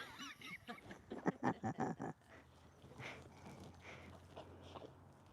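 Several loud, rapid honking squawks from a chicken near the start, then a quieter stretch with faint calls over low background noise.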